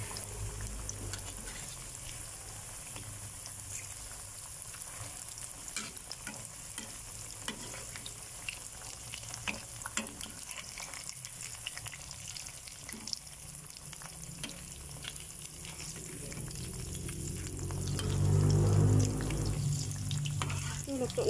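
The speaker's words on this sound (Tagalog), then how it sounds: "kumukulo-kulo talaga yung mantika." Fish frying in a pan of bubbling hot cooking oil gives a steady crackling sizzle throughout, swelling louder near the end as the food is stirred or turned, with no talking.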